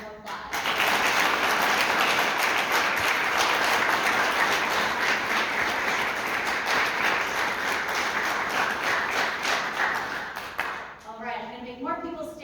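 Sustained, full applause from a theatre awards audience for the students, a thick steady roar of clapping that holds for about ten seconds, then tapers off as a voice begins speaking over the tail.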